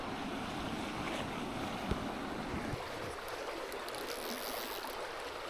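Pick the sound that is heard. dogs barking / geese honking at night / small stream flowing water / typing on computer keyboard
small stream flowing water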